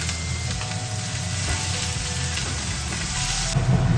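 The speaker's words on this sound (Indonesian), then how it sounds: "Ini ditumis terus sampai benar-benar harum." Spices for opor ayam are sautéed in a pan, producing a continuous close sizzle with faint stirring clicks that stays even throughout.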